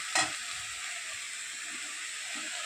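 Lote fish curry with cumin, green chilli, onion and garlic frying steadily in a pan, a bright continuous sizzle and hiss, with a single sharp clank near the start and no talking.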